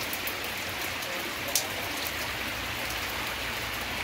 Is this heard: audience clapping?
no